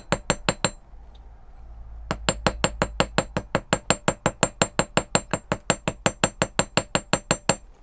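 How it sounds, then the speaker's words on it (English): Sharp metallic hammer strikes on copper pendant sides while texturing them, a few quick taps, a short pause, then a long, steady run of evenly spaced ringing blows, close and loud. "I know, too much hammering."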